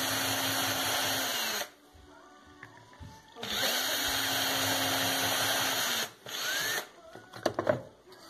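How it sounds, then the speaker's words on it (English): Power drill boring new holes into a wooden spine for an energy-storage build from old 18650 batteries: two sustained whirring drill runs separated by pauses, then a shorter burst and clicking handling noises close by. "so I had to drill new holes to facilitate the connection."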